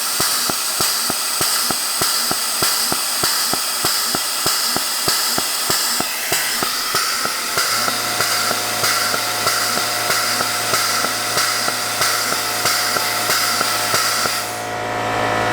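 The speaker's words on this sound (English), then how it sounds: "we'll keep on pumping the nitrous into there" A small home compressor pumps nitrous oxide into a bottle, giving a steady loud mechanical hiss with a rapid, regular pulsing throb. The pitch shifts partway through into a deeper, more laboured drone, with no talking.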